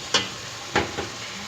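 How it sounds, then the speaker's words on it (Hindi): Keema and tomato masala frying in oil, with soft sizzling under two or three quick stirring scrapes of a spoon, close and fairly quiet. "इसे इतना फ्राई करना है, इतना भूनना है कि हमारे जो ऑयल है वो ऊपर आ जाए"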